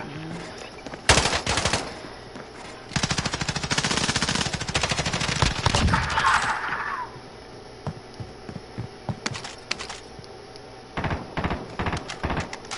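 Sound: gunfire shooting in a video game

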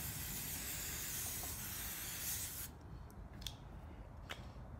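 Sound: aerosol hairspray spraying

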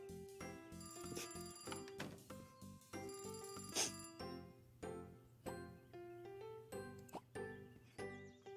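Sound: telephone ringing

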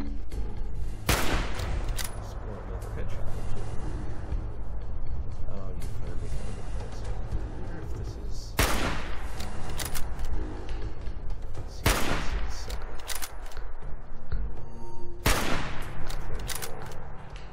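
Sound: gunfire in the video game Fallout 4

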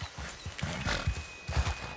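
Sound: horse clip-clop and whinny in video game Red Dead Redemption 2

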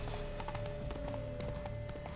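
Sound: horse hooves clip-clop while riding, from video game The Witcher 3

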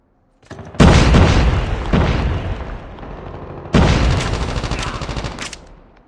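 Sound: grenade explosion in Call of Duty Mobile video game

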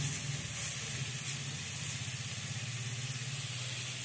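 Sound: vegetables frying in a pan

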